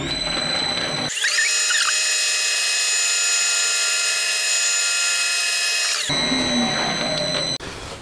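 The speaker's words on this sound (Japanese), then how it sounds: "あとここちょっと溝を掘っておきます。" A lathe cuts a groove into a motorcycle valve guide, a steady high whining tone with a brief rising squeal as the tool engages, holding evenly for about five seconds before dropping back to the motor's hum.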